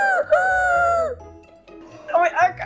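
A person imitates a rooster's crow with a loud, drawn-out vocal call, then adds a shorter, broken crowing attempt, amid casual chatter and laughter.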